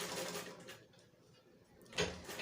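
Sewing machine stitching shirred fabric for a smocked top, a soft mechanical whirr with a louder burst of stitching near the end, no talk over it.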